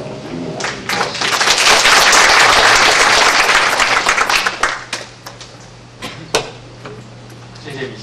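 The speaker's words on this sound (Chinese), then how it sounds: "我们是不是用热烈的掌声来欢迎李敏南李博士？" An audience at an agricultural pesticide lecture breaks into loud, sustained applause. It swells for several seconds, then thins out into scattered claps and a few knocks.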